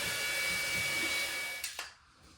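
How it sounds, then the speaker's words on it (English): A Ryobi power sander works over dried caulk, giving a steady loud whirring drone that cuts off after about a second and a half with a couple of light clicks before quiet. "I'm gonna sand it with my Ryobi sander."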